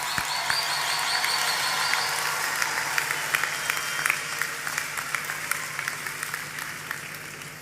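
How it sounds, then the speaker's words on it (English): An audience at a college commencement ceremony applauds the graduating class, a steady dense wash of clapping that holds for several seconds at moderate distance and tapers slightly toward the end. "I ask that you give a round of applause to graduating class"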